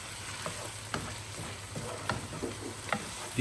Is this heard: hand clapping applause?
no